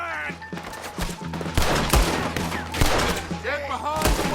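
Repeated gunfire in Red Dead Redemption 2 during a wagon-push shootout, sharp reports cracking in an irregular fusillade over layered game noise, with voices shouting now and then.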